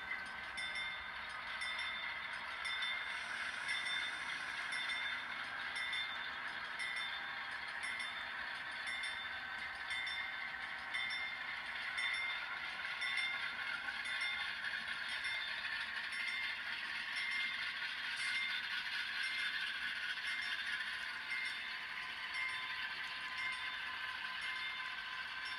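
Model railway locomotive and cars moving along a layout's industrial area, a steady faint high-pitched motor whine with light rail rattle sustained throughout.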